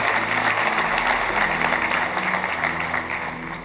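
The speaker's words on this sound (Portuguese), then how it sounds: "Dá um aplauso ao Senhor por isso." Steady applause from a crowd, dense and continuous, fading slightly toward the end, with a faint musical hum underneath.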